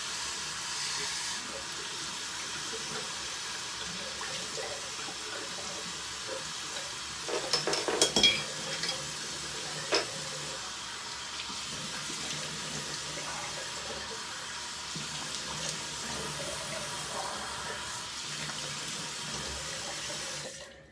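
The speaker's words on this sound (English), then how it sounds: "What I'm going to do now is just go ahead and rinse off the razor, and then I'm going to rinse off my face" Tap water runs steadily into a sink while a razor and face are rinsed, a constant close splashing hiss with a few brief louder splashes and knocks in the middle.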